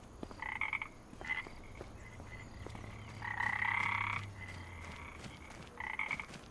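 Frogs croaking in Farming Simulator 25, in repeated bursts, some short and one longer chorus in the middle, over a low steady background hum.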